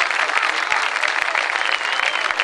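An audience at a beach volleyball tournament gives a steady round of applause for the team, with dense, even clapping from a crowd throughout and no voices standing out.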